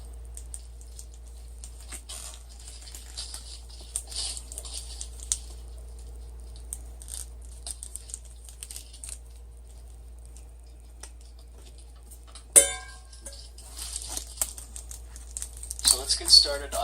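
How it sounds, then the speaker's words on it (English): Scissors cut circles from Reflectix reflective foil insulation for a homemade pot cozy, with soft, irregular snips and crinkles heard close and quiet, and a louder burst of rustling toward the end. "Now I'm just going to cut out these 2 circles with some scissors."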